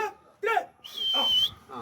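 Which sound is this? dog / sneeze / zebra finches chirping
dog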